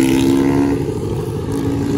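A Yamaha XJ6 motorcycle with a straight-pipe exhaust rumbles loudly and close by, holding a steady, raw droning tone.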